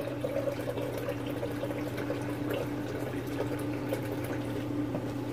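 A Nutramilk nut milk machine dispenses, producing a steady low motor hum mixed with a soft continuous liquid trickle and pouring, moderately quiet and alone.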